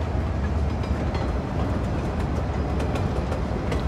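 A train rolls through the city-building game Cities: Skylines II with a steady rumbling rush and faint rhythmic rail clicks, continuous and fairly loud, without voices.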